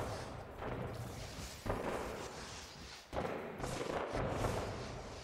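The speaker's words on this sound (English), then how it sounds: "Bloody fireworks." Fireworks going off in the No Man's Sky video game, a steady rumbling crackle with two sharp thuds standing out as bursts, continuous and fairly loud with no talking.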